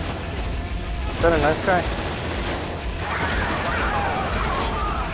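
Grenade blasts and gunfire in the co-op shooter Spec Ops: The Line, with bursts of explosive noise and rattling shots close by through most of the stretch while players talk over the action.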